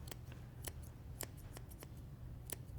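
Scissors point cutting hair, several sharp separate snips at an uneven rhythm, close and fairly loud over a low steady hum.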